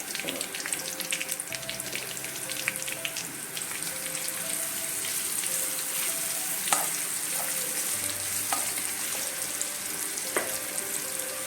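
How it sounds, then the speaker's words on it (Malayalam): Marinated prawns fry in a pan over medium-low flame with a soft continuous sizzle and occasional spatula taps. A low hum sits underneath and no voices are heard. "നമുക്കിതിൻ്റെ ഓരോ സൈഡും 2 മിനിറ്റ് മീഡിയം ടു ലോ ഫ്ലെയിമിൽ ഒന്ന് ഫ്രൈ ചെയ്തെടുക്കാം."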